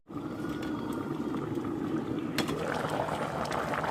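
Bitter leaf soup with crayfish bubbles steadily in a covered pot, a close, continuous rolling boil with a faint rattle, and no voices.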